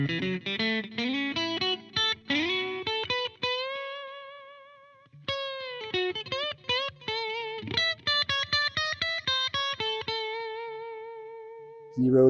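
A HILS HN5 electric guitar played with both pickups selected in the middle position, clean with long sustain: quick runs of picked notes, then held ringing notes that decay slowly, close and fairly loud, with no talking.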